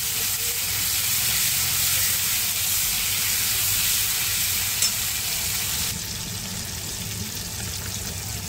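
Tomatoes with salt frying and being stirred in a pan, a loud, steady, close hissing sizzle that eases slightly near the end.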